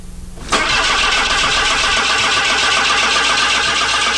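A Saab car engine is started after a brief quiet moment, catching at once and then running steadily and loudly up close with a constant rough roar.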